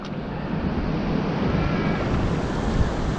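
Ocean surf washes over fishing rocks on the coast, a steady loud rushing wash with wind buffeting the microphone and no pauses.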